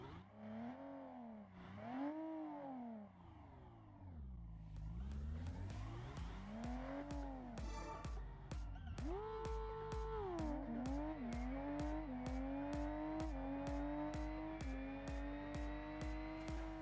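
Simulated car engine in the video game Car Tune Project revving up and down continuously, rising and falling in pitch through repeated gear shifts with rhythmic clicking, steady and close with no talking.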